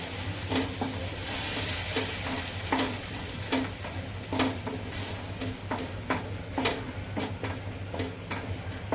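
A spoon stirs and turns the ground masala paste frying for matar paneer bhaji in a hot pan. Steady sizzling runs under repeated sharp scraping taps on the pan, close and with no talk.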